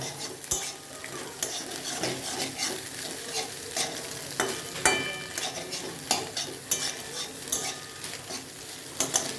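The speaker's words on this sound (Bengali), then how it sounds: "ডিমটা ভাজতে থাকবেন, ডিমটা ভালো করে ভেজে নেবেন।" Egg frying in a pan for a pasta dish, a steady close sizzle with frequent scraping and stirring clinks of a utensil against the pan, no voices.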